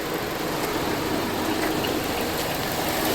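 A car engine idling in gear despite a failed axle, a steady, even mid-pitched rumble close by, continuous and without other sounds.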